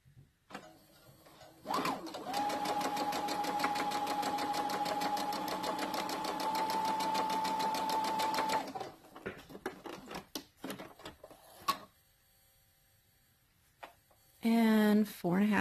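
A sewing machine stitching a pant hem runs in a fast, even whir for several seconds, then stops amid handling noises and a short voice, with faint talk near the end.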